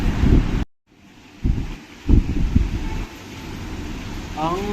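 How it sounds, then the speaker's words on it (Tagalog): Strong wind buffets a balcony during heavy rain, gusting in loud bursts of low roaring noise with a brief dropout, while a voice speaks faintly toward the end. "Yun ang bagsakan ng hangin eh."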